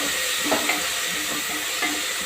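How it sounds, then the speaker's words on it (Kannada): Fenugreek leaves and chopped onion frying in oil while being stirred, a soft continuous sizzle and hiss with a few light scraping stirs, fairly quiet and close, with no voices. "ಈಗ 1 ನಿಮಿಷ ಫ್ರೈ ಮಾಡ್ಕೊಳ್ಳೋಣ"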